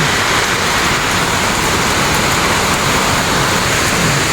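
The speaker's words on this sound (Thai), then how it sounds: "ฝนตกหนักมากเลยค่ะ" Heavy rain pours down in a dense, unbroken roar, loud and close, heard from inside a cave looking out, with no talking.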